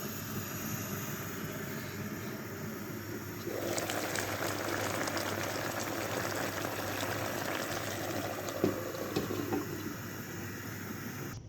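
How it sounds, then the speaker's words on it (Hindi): Sweet potatoes steaming in a covered pot over steady heat give a continuous loud hiss and bubbling that grows slightly fuller partway through, with no voices. "अब हम 15 मिनट तक इसको पकाएंगे इसी हीट पे और अपनी स्टीम में ये बहुत अच्छी गल जाएंगी।"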